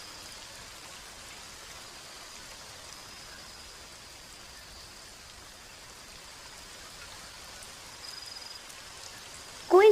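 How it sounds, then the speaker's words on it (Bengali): Rain falls steadily outside a house window as a soft, even hiss that stays faint and constant, ending with a sudden short louder sound. "বৃষ্টি কমতে শুরু করেছে"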